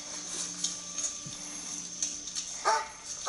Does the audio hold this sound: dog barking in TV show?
yes